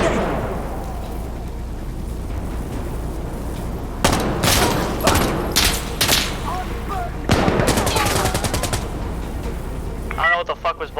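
Gunfire in the tactical shooter Insurgency Sandstorm: loud overlapping rifle shots and bursts over a constant battlefield rumble, with a dense volley in the middle and a voice cutting in near the end.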